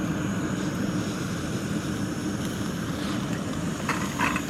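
A large camping stove burner roars while boiling water, giving a loud, steady, close-up rush of gas flame that holds unbroken throughout, with no voices over it.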